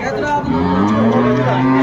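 A dairy cow calls with a drawn-out, steady moo at a cattle market in Aftabganj, Dinajpur, loud and close, with voices murmuring around it.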